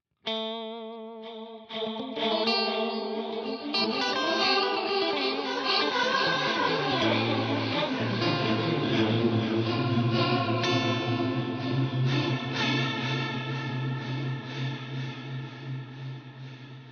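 A guitar played through the Valhalla Supermassive reverb plugin on its Void preset with heavy modulation, plucked notes swelling into a long, wavering, chorus-like wash that sustains and slowly fades, with no talking.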